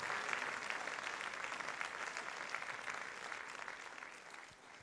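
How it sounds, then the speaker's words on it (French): An audience at a Guadeloupe sports awards ceremony applauds steadily, a dense, moderately distant wash of many hands clapping that holds for several seconds and fades slightly at the end. "Plus d'applaudissements, s'il vous plaît"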